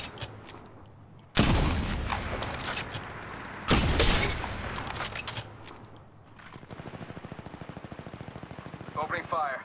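Automatic weapon fire from the mobile shooter Apex Legends Mobile: loud, close bursts of rapid shots around the second and fourth seconds, followed by a long, steady stream of fast, evenly spaced rounds near the end.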